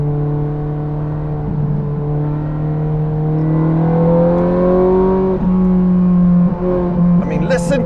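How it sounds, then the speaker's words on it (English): Standard-exhaust car engine pulling hard through a gear change, steady loud drone climbing in pitch with a brief dip and rise at each shift, close and continuous. "that's a straight pipe. This is a standard exhaust in this car."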